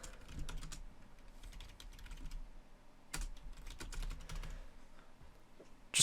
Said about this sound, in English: Let's type a quick message.